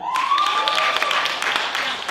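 Comedy club audience clapping in a brief burst of scattered applause, with a few voices and laughter mixed in under the claps, steady and fairly close throughout.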